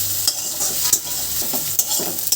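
Pasta being fried and stirred with spices in a home kitchen pan, a steady sizzle broken by several scraping stir strokes at close range, no voices.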